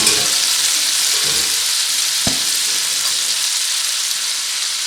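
Chicken pieces and garlic cloves sizzle in a pan with a loud, steady, hissing fry that holds throughout, close up, with one brief knock partway through and no talking.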